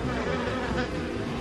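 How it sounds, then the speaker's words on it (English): A swarm of cartoon bees buzzes steadily around a steam engine's smoke box, a dense, continuous droning hum that stays close and loud with no speech over it. "The bees swarmed round it happily."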